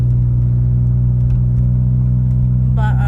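Car engine running steadily while driving, a constant low rumble and hum filling the cabin, with a brief faint higher sound near the end and no talking.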